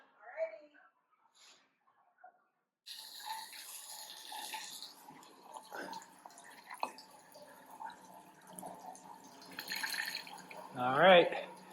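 Water splashes and trickles unevenly into a boiler system's storage tank, a fairly quiet flow that swells toward the end, with people talking now and then nearby.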